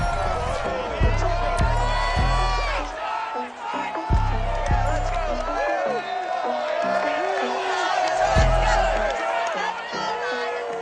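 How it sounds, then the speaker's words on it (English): A large stadium crowd at Ford Field in Madden 22 roars and cheers steadily, with a rhythmic thumping beat over it and voices talking over the noise. "A good crowd on hand and seemingly ready to go in the Motor City."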